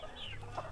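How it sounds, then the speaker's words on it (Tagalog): Brief burst of chickens clucking on a rural provincial farm, where many wing-clipped birds roam; several close, overlapping clucks over a low steady background hum. "Dami manok oh."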